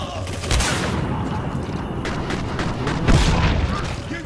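An explosive sniper rifle round in the video game Singularity goes off with heavy booming blasts over a dense, constant rumble of battle noise.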